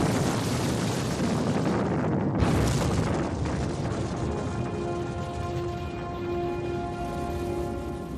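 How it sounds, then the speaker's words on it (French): Dynamite blasting to level ground for German autobahn construction: a loud, dense rumbling roar with a sharp burst around the middle, followed by a sustained low drone and faint tonal hum, all wind-buffeted with no talk. "on n'utilise pas moins de 2 tonnes de dynamite pour niveler le terrain, déterminant ainsi de formidables explosions"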